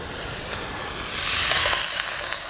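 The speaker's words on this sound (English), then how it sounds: "saute that for a few minutes, then we're gonna add the peppers" Vegetables for a New Orleans chicken and tasso jambalaya sauté in a hot pan, producing a steady, close, loud sizzle that swells slightly midway, with faint stirring clicks and no talk.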